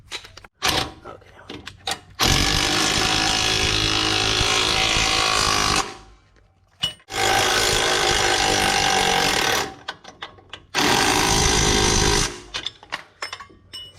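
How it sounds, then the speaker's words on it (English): Power tool bursts tightening a bolt and nut on the lower strut of a 2007-2018 Chevy Silverado or GMC Sierra during a leveling kit install: three long, loud, steady mechanical runs separated by pauses with clicks and knocks. "by tightening the bolt and the nut, it actually straightened out our lower strut"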